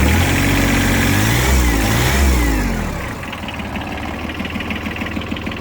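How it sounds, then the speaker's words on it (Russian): A Mitsubishi MTX15 mini tractor engine runs nearby, loud and revving at first, then dropping to a steady, rhythmic idle with a knocking pulse. "Я думаю, что все слышали, как трактор работает."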